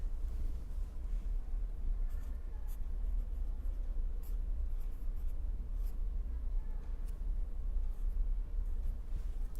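Pen or chalk writing during a lecture, a steady soft scratching texture that runs continuously for the whole stretch over a low room hum, with no voice.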